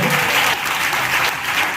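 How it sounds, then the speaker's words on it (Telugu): A church congregation claps together in a single loud burst of applause, a dense crowd clap filling the short moment with no speech over it. "Yes, clap once."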